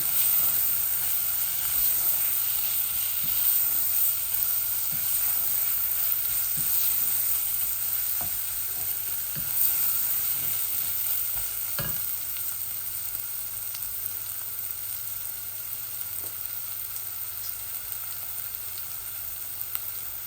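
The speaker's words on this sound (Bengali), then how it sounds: "ভালো করে সিদ্ধ দিয়ে এখন একটু ভাজবো মশলার সাথে।" Boiled fish roe fries with spices in a pan, giving a constant loud hiss and sizzle throughout, with faint scattered ticks of a utensil against the pan.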